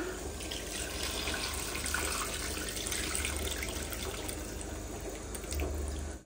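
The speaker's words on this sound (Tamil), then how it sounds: "இப்போ வந்து பாத்தீங்கன்னா நம்ம புளி தண்ணி வந்து சேர்த்துக்கலாம்." Tamarind water is poured into a simmering curry in a home kitchen, a steady, close liquid pour lasting several seconds with no talking.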